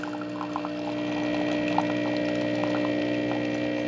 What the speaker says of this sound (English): And our single serve coffee is brewing.